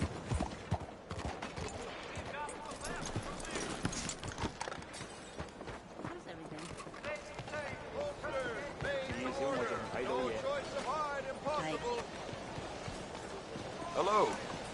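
Horse hooves clip-clopping and galloping in Red Dead Redemption II, a rhythmic run of hoofbeats under frequent spoken voices and ambient game sound.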